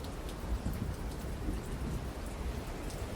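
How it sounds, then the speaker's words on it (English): Rain falling steadily in a dense, even hiss of drops with a low rumbling undertone, constant and moderately loud with no voices. "The rain!"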